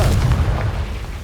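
A Confringo blasting spell explodes in Hogwarts Legacy with a heavy, low boom that rumbles loudly and slowly fades over about a second.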